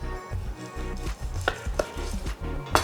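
A knife slices through a cooked New York strip steak with a few crisp cutting and scraping strokes, close and fairly quiet, with no talking.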